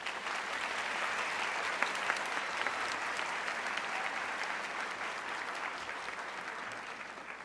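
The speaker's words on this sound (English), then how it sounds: "Why not give them a round of applause?" Sustained applause from a convocation audience, a dense steady clatter of clapping hands filling the hall throughout without pause.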